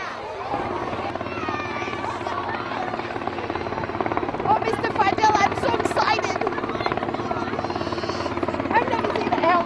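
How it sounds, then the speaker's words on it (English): A loud helicopter thrums continuously nearby, its rotor chop and turbine whine filling the air, with faint voices and chatter underneath. "Helicopter landing once."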